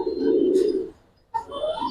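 Silver Giribaz pigeons, a full-silver pair offered for sale, make a low soft cooing that rumbles steadily for about a second, pauses briefly, then resumes close by with no talking.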